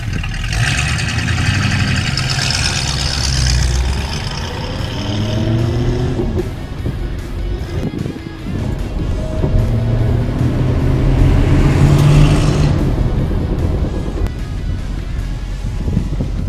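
Engine of a 1966 Ford Mustang running steadily, a low droning rumble close by with wind buffeting the microphone and shifting pitch as it works, no speech heard.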